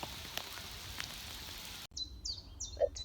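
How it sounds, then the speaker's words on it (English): Steady April rain patters softly on Hampstead Heath for a couple of seconds, then cuts to a quieter scene with a few faint high chirps and drips. "April rain."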